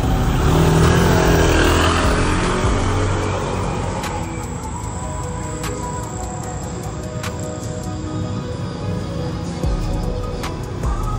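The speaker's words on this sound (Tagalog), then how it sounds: "Titest drive na natin yung PCX." A Honda PCX scooter rides along on a test run after ball race and shock work, its engine humming steadily up close with road and wind noise, easing slightly in the middle before picking back up.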